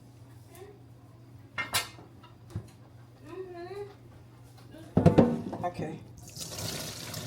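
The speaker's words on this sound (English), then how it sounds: "I'm straining the noodles" Cooked pasta noodles are tipped into a strainer for a homemade shrimp Alfredo, giving a short rush of pouring water and hiss of draining near the end, after clinks and scattered talk.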